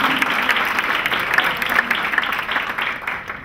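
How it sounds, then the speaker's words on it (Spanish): At an architecture lecture event in Mexico, an audience applauds steadily for a few seconds, a fairly close, continuous patter of many hands with little talk. "Le damos un aplauso."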